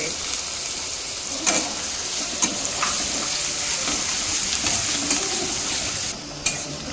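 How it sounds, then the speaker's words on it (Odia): Onions fry in hot oil in a kadai, giving a steady, close sizzle with occasional sharp clinks of a stirring spoon against the pan, with faint voices in the background. "ପିଆଜକୁ ଟିକେ ବ୍ରାଉନ୍ ହେଲା ପର୍ଯ୍ୟନ୍ତ ଭାଜିବି ଆଉ"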